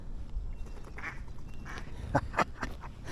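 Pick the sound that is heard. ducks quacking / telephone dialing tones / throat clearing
ducks quacking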